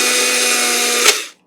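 Chia seeds, hemp seeds and protein powder grinding in an electric grinder, a loud steady high-pitched whir that stops abruptly after about a second and a half.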